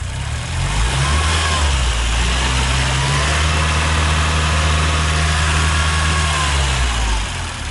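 A Volkswagen Polo 86c 2F engine idles loud and close with a steady low rumble, then sputters and dies near the end.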